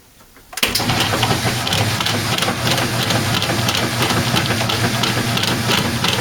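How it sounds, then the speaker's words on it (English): A Whirlpool or Kenmore direct drive washing machine with stripped agitator dogs starts up abruptly and runs with a loud, steady mechanical grinding and rattling hum that continues without pause. "if your Whirlpool or Kenmore direct drive washer sounds like this and does this when it's washing clothes"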